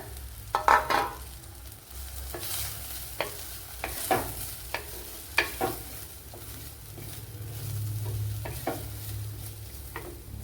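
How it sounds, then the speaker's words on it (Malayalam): A spoon stirs grated coconut into sautéed onions in a hot pan, giving repeated scraping knocks over a steady, close sizzle. "അപ്പോൾ സവാള കുറച്ച് വഴണ്ടിട്ടുണ്ട്. ഇതിലേക്ക് തേങ്ങ ചേർത്ത് കൊടുക്കാം."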